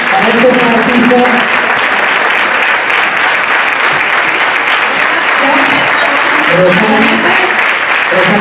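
Loud, sustained applause from a theatre audience at the closing of a copla music show in Calamonte, steady clapping filling the whole stretch with faint voices mixed in.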